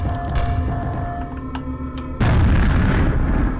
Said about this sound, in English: And major explosion!